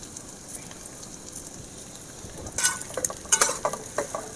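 Marinated rice for basanti pulao fries slowly over a low flame, giving a soft, faint sizzle with a few brighter stirring scrapes toward the end.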